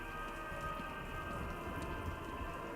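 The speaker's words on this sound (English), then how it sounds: "What's with all the rain?" Steady rainfall in the video game Batman: Arkham Knight, a continuous soft hiss of rain on surfaces with a low rumbling undertone, quiet and unbroken with no voices.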